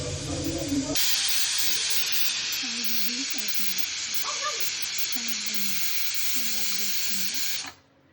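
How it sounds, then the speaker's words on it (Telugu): A loud continuous hiss of steam blasts from a pressure cooker whistle while mutton cooks, lasting several seconds, then cuts off abruptly, with faint muffled voice underneath. "ఒక 5 విజిల్స్ వచ్చే వరకు మూత పెట్టుకున్నాం"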